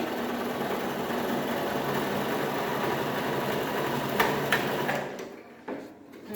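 Sewing machine running a plain seam in one steady, continuous hum of stitching, with a couple of clicks and a slowdown as it stops near the end.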